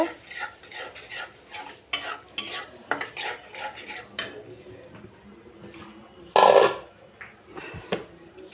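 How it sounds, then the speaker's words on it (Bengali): A spoon scrapes and stirs a thick spice paste with a little water in a pan with a soft sizzle, clinking against metal in irregular bursts, one sharp louder scrape near the end. "সামান্য একটু পানি দিয়ে এখন মশলাটাকে ভালোভাবে কষিয়ে নিব"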